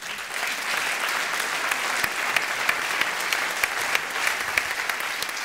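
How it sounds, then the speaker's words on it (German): A panel discussion audience applauds steadily, the dense crowd clapping holding an even level for several seconds with a few sharper individual claps standing out. "Wir empfangen, meine Damen und Herren, unter Ihrem Applaus"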